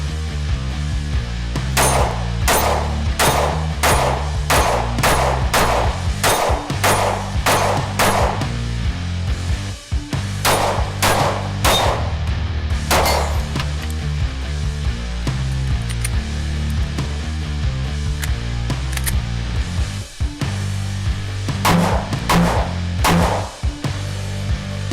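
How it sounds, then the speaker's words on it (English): Ruger Max-9 subcompact pistol fired at a range, sharp loud shots coming in quick strings of several rounds with short pauses between groups, close to the listener and over a low steady background. "so let's go shoot this baby."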